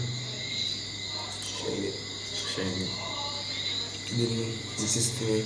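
Crickets chirp steadily in the background, a continuous high trill running the whole time beneath a low hum and brief bursts of nearby voices talking.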